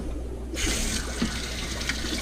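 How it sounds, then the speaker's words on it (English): Tap water running steadily into a sink while fish nets are rinsed of bleach water, a continuous close splashing flow with small bumps and splashes. "Rinse the bleach water off."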